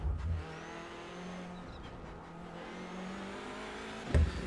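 Touring car engines in the iRacing sim hum steadily at mid pitch through the whole stretch, with a brief louder thump near the end.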